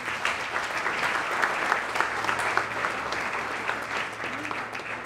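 Another round of applause at an anniversary event for the Border Angels group, honoring a human rights award recipient: steady, moderately distant clapping from a crowd that runs the whole time, with faint voices beneath.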